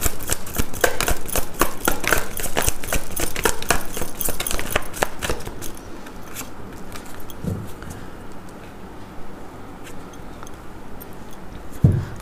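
Tarot cards shuffled and drawn during a reading: a dense run of crisp riffling clicks and snaps for about five seconds, then softer handling rustles and a final card slap, close and alone.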